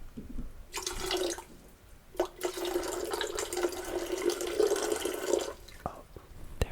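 Water streams steadily into an electric kettle for several seconds in two near, close-up bursts with a short pause between, then trickles off.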